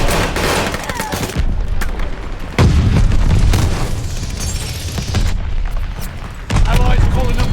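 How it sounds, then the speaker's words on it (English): A mortar barrage in Call of Duty Vanguard sends heavy booming blasts through a chaotic battlefield, with repeated thuds and gunfire crackling in between, loud and close. "Allies calling a mortar barrage."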